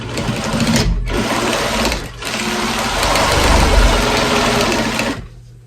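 A sewing machine stitches a potholder in continuous fast runs, its motor whirring with a rapid needle chatter, briefly pausing twice before winding down, close and loud.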